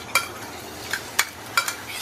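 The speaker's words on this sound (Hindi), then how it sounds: "मसाले को लाइटली सौते कर लेंगे। धीमी आंच पे इसे सौते करेंगे।" Crushed green chili, ginger and garlic masala sautés in about a quarter cup of hot oil over low heat. A soft, faint sizzle runs throughout, broken by a few light spatters and stirring clicks.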